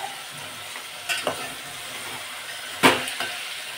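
Green peas sauté in a pan for masala rice, a soft continuous sizzle with a few sharp stirring scrapes of a spoon against the pan, near and fairly quiet.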